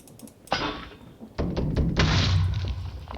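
A wrench strikes a vehicle in modded Minecraft, producing sharp clunking thumps: one hit, then a second, followed by a rumbling mechanical rattle that continues at moderate loudness.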